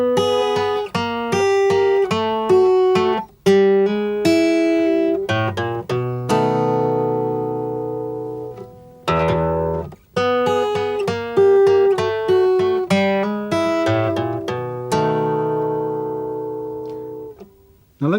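Fingerstyle acoustic guitar plays a 12-bar blues turnaround, a run of plucked single notes and ringing chords in a steady rhythm with brief pauses between phrases, close and clear, no voices.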